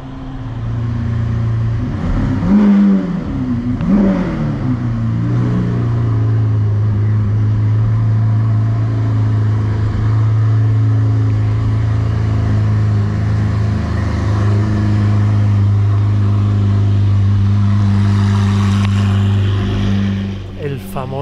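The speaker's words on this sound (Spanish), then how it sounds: "El famoso V12 de un Aventador. Un sonido clásico." A Lamborghini Aventador V12 revs loudly at close range, with a couple of sharp throttle blips rising early on and then settling into a sustained, deep, strongly harmonic drone that holds at high volume before tailing off at the end.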